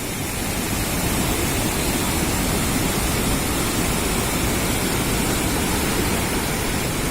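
Polluru waterfalls pouring down, a dense, steady roar of rushing water that fills the whole stretch at an even loud level with no pauses.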